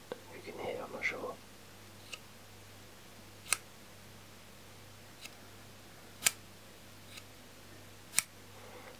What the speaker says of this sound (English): This one here sounds more plasticky when I open it.